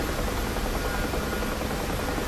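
Bell UH-1H Huey helicopter in the DCS flight simulator game: a continuous, loud rotor and turbine drone, steady and unbroken throughout, with no voices.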